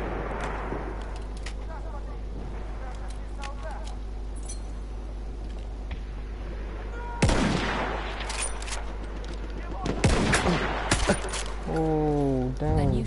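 Gunfire in the WWI shooter Battlefield 1: after a stretch of low ambient rumble, a sudden loud volley of shots cracks out, followed by more bursts of gunfire and mechanical clatter.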